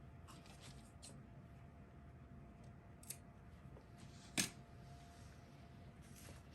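A few quiet scissor snips cut paper for a small craft piece, short isolated crunches spaced a second or more apart over a low, steady background hiss.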